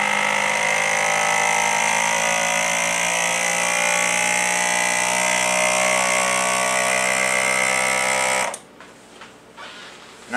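A vacuum sealer pumps air out of a canning jar of rice, a loud steady mechanical drone with a whining motor tone that runs for about eight seconds, then cuts off abruptly into quiet background.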